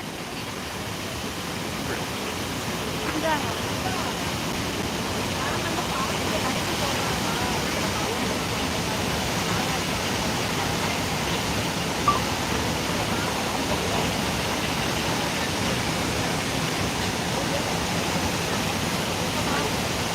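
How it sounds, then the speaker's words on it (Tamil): Athirappilly Falls in Kerala roars in a constant, dense rush of water that stays even and loud throughout. "பாருங்க பால்ஸ் பாருங்க இது அதிராம்பள்ளி பால்ஸ் கேரளாவில் இருக்குது"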